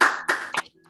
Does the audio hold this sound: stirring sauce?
no